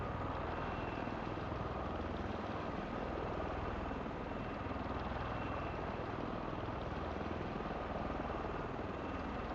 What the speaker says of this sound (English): Basically, I'm idling the engines.